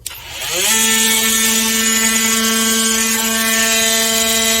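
A cordless oscillating multi-tool on a loose DeWalt 20V Max battery spins up quickly, then holds a loud, steady high-pitched buzz with an added rattling drone, close and continuous with no talking.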